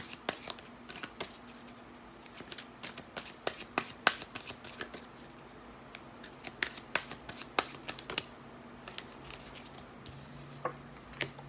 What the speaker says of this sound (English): I'm going to finish up this reading by pulling some cards off of the Angel Answers deck by Doreen Virtue